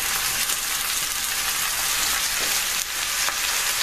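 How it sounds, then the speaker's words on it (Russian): Onions, carrots and eggplant fry in a pan for a vegetable dish, making a steady, close, dense sizzle that crackles on without pause and with no voices over it. "Вот здесь овощи жарятся"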